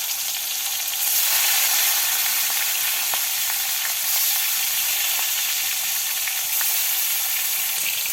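Tilapia pieces rubbed with turmeric, salt and chilli fry in hot oil, a loud continuous sizzle with steady crackle throughout.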